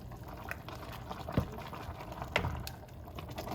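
A pot of Southern mixed greens with seasonings, brown sugar and apple cider vinegar bubbles and gurgles softly as it is stirred, with a couple of brief liquid sloshes.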